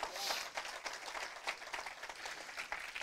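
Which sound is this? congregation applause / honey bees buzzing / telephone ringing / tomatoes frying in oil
congregation applause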